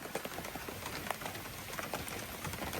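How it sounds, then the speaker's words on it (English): Steady rain patters on a river, a dense, even hiss of drops close by with no voices and no pauses. "Started to rain. This will kill the water temp."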